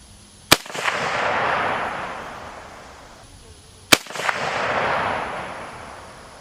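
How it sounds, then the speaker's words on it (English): Two loud, crisp gunshots from a Romanian RH10 rifle fired downrange at an outdoor range, about three seconds apart, each followed by a broad echoing tail that fades slowly. "now that I've launched a couple of rounds down there"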